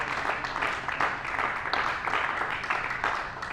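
Church congregation clapping in worship, a steady run of rhythmic applause with regular pulses of hand claps, moderately loud and sustained, with a faint voice beneath.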